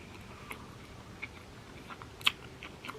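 A few quiet, scattered bites and soft chews on a sushi roll dipped in soy sauce, close and isolated crunchy clicks spaced out over a hushed background with no talking.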